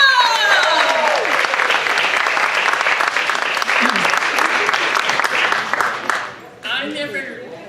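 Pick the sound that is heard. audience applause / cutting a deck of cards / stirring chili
audience applause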